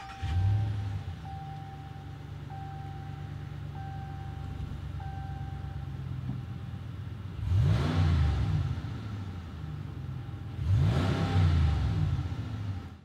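A 2016 RAM Rebel 1500 pickup truck engine cranks and catches after a push-button start, then idles with a steady low rumble and a faint chime, followed by two strong revs that rise and fall.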